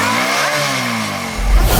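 A motorcycle engine revs up with a rising, slightly wavering whine over a mid-frequency drone, followed by a louder low burst of throttle near the end.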